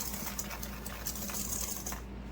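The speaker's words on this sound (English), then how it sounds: "I'm going to whisk it together." Dry ingredients, cornstarch and salt, are whisked together in a bowl for banana pudding, giving a quick, soft rhythmic scraping under a steady background hum, close and without talk.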